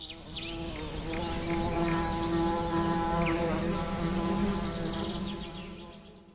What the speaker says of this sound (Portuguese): enquanto suas amigas abelhas cantam uma canção